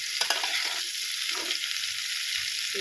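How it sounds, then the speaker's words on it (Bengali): Cauliflower pieces fry in hot oil with a continuous close, hissing sizzle, with a few brief clicks from stirring near the start and no voices. "আর একটু ভাজবো।"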